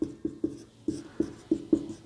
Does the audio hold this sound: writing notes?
yes